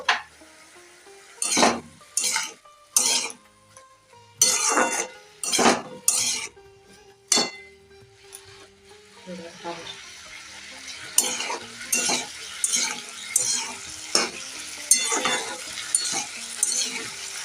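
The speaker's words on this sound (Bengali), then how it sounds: "আমি পাঁচ মিনিট পর ঢাকাটা খুলে আবার একটু নাড়াচাড়া করে নেবো" Small shrimp for a spinach dish fry in a pan as a spatula stirs and clanks against the metal in bursts, a lid-opening clatter and scrapes over an underlying sizzle that grows denser later.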